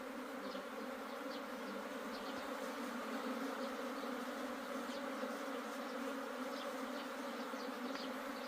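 A dense, steady drone of a native Korean honeybee swarm buzzing together, continuous and fairly close, with no voices.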